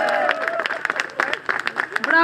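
Applause for a boxer after a bout at a televised ring show, a sparse, uneven burst of hand claps with quick individual hits, mixed with a voice and crowd murmur.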